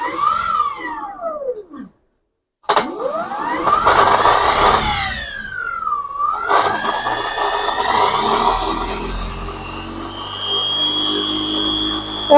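A permanent magnet three-phase alternator generator starts up, its tonal whine sweeping down and up, cutting out briefly, then spinning up into a loud, rising, sustained running hum.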